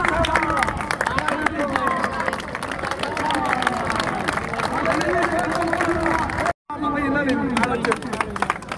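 An audience claps steadily for a girl who won a bicycle barefoot, with dense, sustained applause and crowd murmur running throughout and a brief cut near the end.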